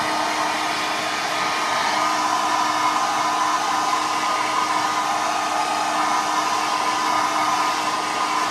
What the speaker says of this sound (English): now I'm going to take a hairdryer, and I apologize in advance for the sound